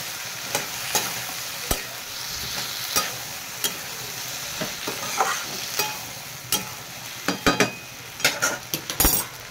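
A spoon stirs a spiced vegetarian okra curry in a frying pan over a soft sizzle, with repeated sharp scrapes and clinks, sparse at first, then quicker near the end.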